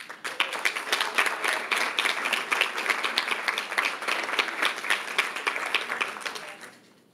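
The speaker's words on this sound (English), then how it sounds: "So another round of applause for all of these amazing people." Sustained applause from an audience at a school district legislative meeting honouring long-serving staff, many hands clapping densely and steadily for about six seconds before fading out.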